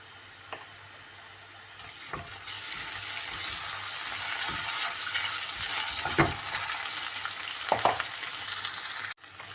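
Sliced onion fries with a bay leaf in a pan, ginger-garlic paste about to go in, for a taro stolon bhuna; a steady broadband sizzle swells and holds, broken by occasional sharp spatula scrapes and knocks, close up.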